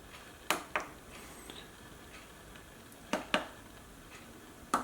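A slow cooker of beef chili gets its lid set on with a handful of short, quiet clinks and taps in small pairs, close by with faint room noise between.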